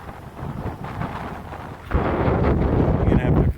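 Heavy, rumbling wind buffets the microphone on a beach trail in Noosa National Park, continuous and loud, growing stronger halfway through as gusts roar across the recording.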